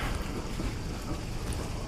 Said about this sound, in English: wind has been coming through here